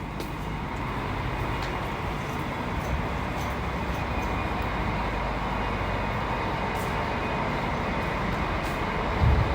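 Steady, loud rumble of a train rolling past at a station in Braunschweig, Germany, continuous rail and engine noise filling the whole stretch without pause.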